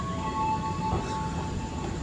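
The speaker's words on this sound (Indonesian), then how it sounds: "Nah ini kereta." A passenger train at Rawa Buntu at night gives a steady, fairly loud rolling rumble with thin sustained tonal whines riding over it, continuous throughout with no voices.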